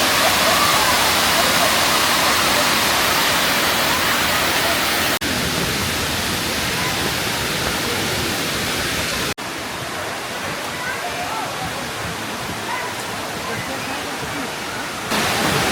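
Fall Creek cascades near a swinging bridge, a loud, steady broadband roar of rushing water heard up close, continuous throughout with slight level shifts.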